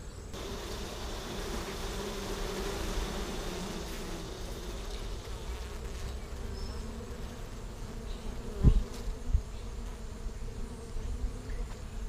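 Honeybees hum in a steady, dense buzz around hive frames of freshly drawn comb, close and continuous, with a few brief knocks partway through.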